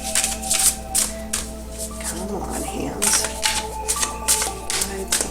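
Tarot cards being shuffled by hand, a run of soft papery riffles and flicks in quick bursts, with a person talking over the shuffling throughout.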